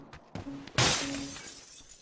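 Glass shatters in a shooting video game, one sharp loud crash after a couple of lighter knocks, then a fading ringing tail with no talk over it.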